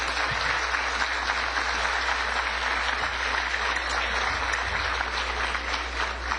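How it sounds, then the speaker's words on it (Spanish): Sustained, even applause from a conference audience sending off a speaker, a steady wash of many hands clapping with a low hum underneath and no voices on top. "vamos a despedir al doctor Santos con un fuerte aplauso"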